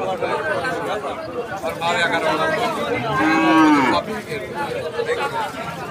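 Cattle low loudly and close at a busy livestock market, with a long rising moo standing out over a steady crowd chatter and nearby voices talking throughout.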